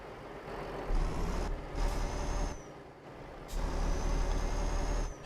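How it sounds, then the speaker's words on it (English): A Volvo truck in Euro Truck Simulator 2 drops through engine retarder braking, a deep low rumble rising in heavy bursts with faint whining tones and brief pauses between, heard alone without talk. "on the Volvo sounds more like it's just forcing you to gear down"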